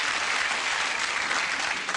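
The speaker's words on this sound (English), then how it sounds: "I don't know what they're clapping now." A television talk-show studio audience breaks into sustained, dense applause, many hands clapping together evenly and close, with no speech over it.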